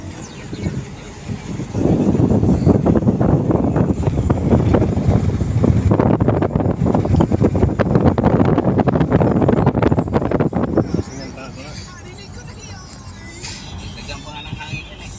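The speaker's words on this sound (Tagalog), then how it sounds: "Sarap ng hangin dito." Strong wind buffets the microphone for several seconds while riding in a golf cart, with quieter road noise before and after the gusting.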